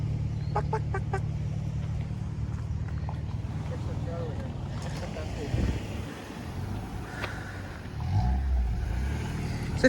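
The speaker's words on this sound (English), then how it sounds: "Chickens." Chickens cluck in short bursts amid outdoor ambience at Keaiwa Heiau State Recreation Area in Aiea, Hawaii, with a low engine rumble nearby and people talking now and then.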